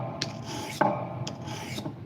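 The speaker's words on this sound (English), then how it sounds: "This is a 400 grit stone, Pilato." A knife blade rasps across a 400 grit whetstone in a few rhythmic strokes, close and moderately loud, with a sharper scrape midway.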